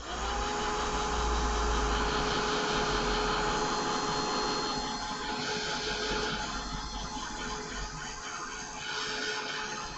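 A heat tool blows steadily over wet ink on a craft project, a loud continuous whirring hum with a high whine that holds for the whole stretch.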